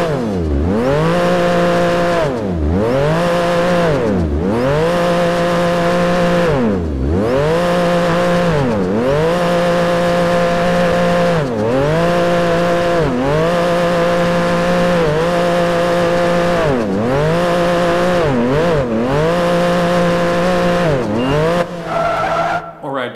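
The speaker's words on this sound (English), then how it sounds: "That's a pretty annoying revving sound." A video game car engine revving hard in repeated cycles, its pitch sweeping up and down over and over, loud and close, with brief dips between revs.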